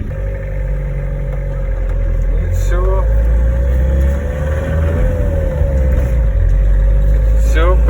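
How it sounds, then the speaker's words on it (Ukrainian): An LDV van engine running loud and close, its steady drone rising as it revs, with a voice speaking over it. "Набирає обороти, газу дав і вона пішла."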